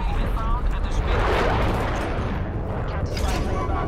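Heavy rumbling blasts from a bomb strike in Call of Duty Black Ops Cold War multiplayer, a dense continuous roar of explosions filling the whole stretch at close range.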